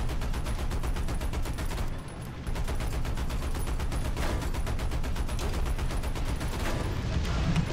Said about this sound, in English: Dude, we're getting wrecked by 50 cal